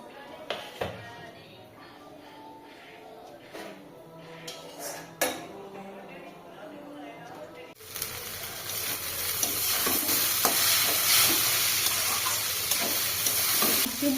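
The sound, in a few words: vegetables and chow mein stir-frying in a pan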